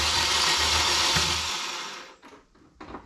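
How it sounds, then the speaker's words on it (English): A VW Polo Coupe engine cranking over on its starter, loud whirring churn for about two seconds that then cuts off, followed by a couple of faint brief sounds. "Right, so it turns over."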